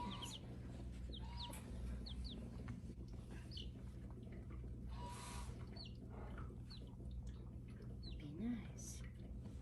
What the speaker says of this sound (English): See the chickens.